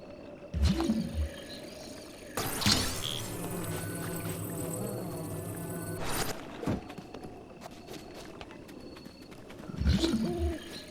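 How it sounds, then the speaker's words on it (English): Owl hooting softly in the background of a night scene in Zelda: Breath of the Wild, low repeated coos set among ambient game music and environmental sound. "You can hear the owl in the background there."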